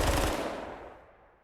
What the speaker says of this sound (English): now moving on to the Chris Vector, one of the best submachine guns ever made